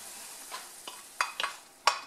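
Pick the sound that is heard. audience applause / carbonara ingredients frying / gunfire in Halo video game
carbonara ingredients frying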